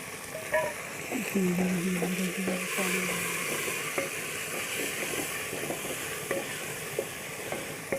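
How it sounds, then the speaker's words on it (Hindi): Tomatoes and green chilies drop into a pot of hot oil while cooking white chana, setting off a steady, close sizzle and frying hiss that runs throughout, with faint stirring clatter and no speech. "अब मैं इसमें टमाटर और हरी मिर्च डाल लेती हूँ"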